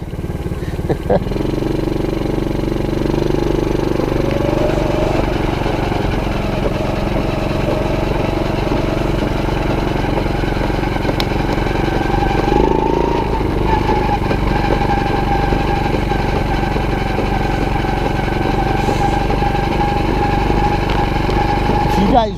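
A long-abandoned 110cc ATV engine, newly repaired after a carb clean, runs steadily while being ridden, a loud continuous drone with small shifts in pitch as the throttle changes. A voice speaks briefly over it.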